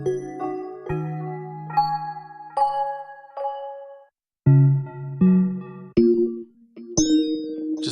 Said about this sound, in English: Bells are cool too.